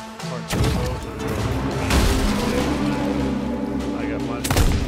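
Ship cannons in the Sea of Thieves video game fire in loud booming blasts, one sharp shot followed by a long rumbling roar of continuous explosive impacts, then another heavy blast at the end.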